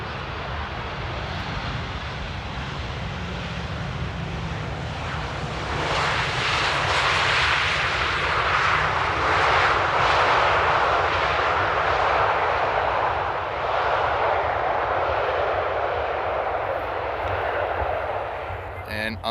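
Airliner jet engines roar steadily during a crosswind landing at Amsterdam Airport, a broad distant rumble that swells louder midway and then slowly fades.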